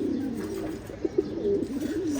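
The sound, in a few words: Pigeons cooing, Khaki pigeon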